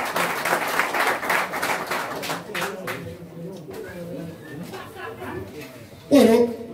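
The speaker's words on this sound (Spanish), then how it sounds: "aplauso para ellos, por favor, para todo el equipo de la liga" An awards-ceremony audience applauds a league team with a brief burst of clapping that fades into the background as a voice speaks over the hall.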